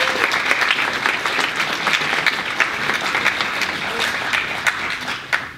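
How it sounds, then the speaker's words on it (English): Steady applause from a large audience, dense clapping that holds at an even level throughout without pause. "join me in giving them a round of applause"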